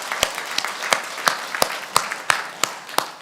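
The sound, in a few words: congregation applauding in church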